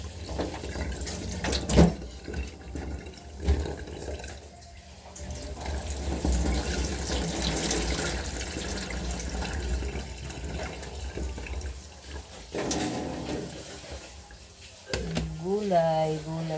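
Vegetables rinsed under a running kitchen tap, water splashing steadily into a sink for long stretches, with someone talking in Tagalog over and between the flow.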